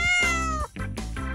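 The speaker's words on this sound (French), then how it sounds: "Ce sont des servales. Ils sont très mignons, mais pas du tout dociles." Servals, a small wild cat, give two loud, close meows in quick succession, each one a drawn-out tonal cry with no other sounds present.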